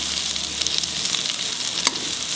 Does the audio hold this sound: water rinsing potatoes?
no